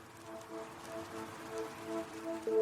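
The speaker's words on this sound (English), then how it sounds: "When the rain hits hot, sandy earth and vegetation" Rain falling on hot, sandy earth and vegetation in Sudan, a steady soft patter spread evenly over a few seconds, with a faint tonal hum running underneath and a slight swell near the end.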